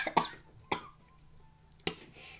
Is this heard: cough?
yes